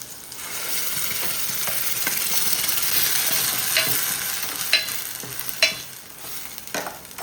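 Ground spice paste hitting okra frying in oil in a pan, a dense steady sizzle with a few scattered stirring clinks near the end, no talk.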